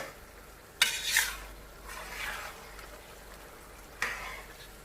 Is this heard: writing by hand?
no